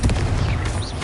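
A Confringo spell explodes in the Hogwarts Legacy video game, a loud, deep booming blast with a rumbling tail, brief and up close.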